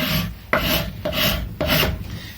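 A saw file rasps across the wood of an early custom guitar being rebuilt: three or four even back-and-forth strokes, close and loud, with nothing else heard.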